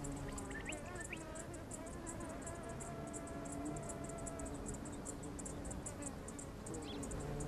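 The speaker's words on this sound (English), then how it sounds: "the flies are soon burnt out by their expensive hovering flight" Long-tongued flies hover over flowers in Namaqualand's desert spring bloom, giving a steady, soft insect buzz with faint, regular high pulsing above it throughout, with no voices.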